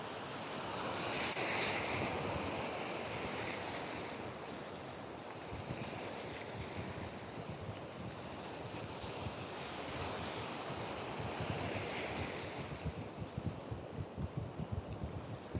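Ocean surf rolls and breaks on a beach along Australia's east coast, a continuous roar with swells building and fading every few seconds, mixed with gusty wind buffeting the microphone and no voices.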